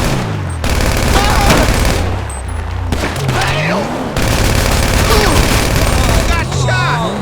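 Gunfire in GTA 5 during a bail bond mission: dense, loud bursts of shots and booms fill the scene, with game music underneath and short pauses between volleys.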